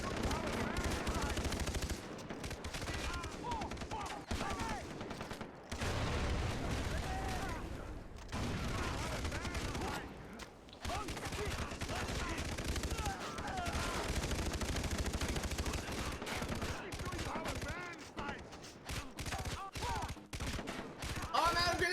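Rapid automatic gunfire and heavy bursts from the video game Far Cry 3, loud and nearly continuous with brief gaps, booming low end throughout.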